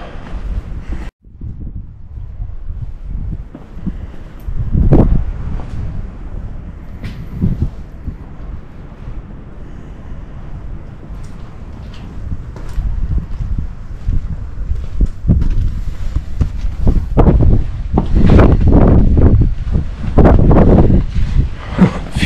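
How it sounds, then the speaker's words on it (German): Strong gusts of wind on a hilltop in the Black Forest buffet and roar across the microphone in uneven waves, rising and falling, loudest toward the end. "Heute ist es ziemlich windig, zumindest hier auf dem Berg"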